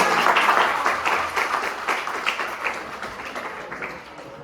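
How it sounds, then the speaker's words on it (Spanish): A medical class claps for a student called to the board, a dense round of applause that starts strong and slowly tapers off over four seconds. "Un fuerte aplauso para Giancarlo."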